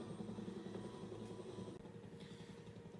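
Helicopter in flight from Star Trek IV: a continuous rotor thrum with rhythmic chopping pulses, fairly close and steady throughout, with no voices.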